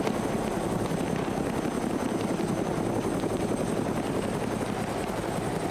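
The steady, loud thudding drone of a helicopter rotor, continuous and close, with a faint high whine running over it throughout.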